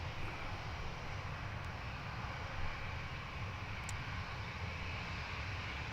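Ryanair airliner at Dublin Airport, a faint, steady distant engine roar and rumble holding evenly throughout with no voices.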